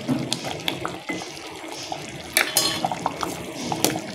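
Chana dal payasam bubbles in a pot, making soft irregular popping and gurgling with small splashy bursts, close and fairly quiet, with no voices.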